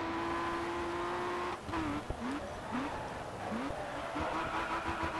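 A racing car in GRID Autosport runs at full throttle, a steady engine drone broken by several quick upshifts whose pitch dips and climbs again, with the player talking faintly underneath.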